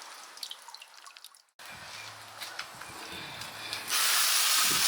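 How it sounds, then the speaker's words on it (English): Water drips and runs while a wet brass tumbler full of stainless steel media is emptied and rinsed, a faint trickle giving way to a steady hissing spray that grows louder near the end, close by with no talk. "I'm just gonna empty this and rinse it out."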